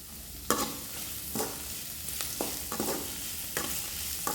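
Curry leaves and spices sautéing in oil for a poppy seed gravy, a low steady sizzle with a few sharp scraping stirs spaced through it, moderately quiet and with no voices.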